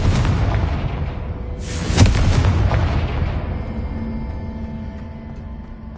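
A Confringo spell explodes in Hogwarts Legacy with a loud, deep boom and a sharp blast near the two-second mark, then a rumbling tail that slowly fades.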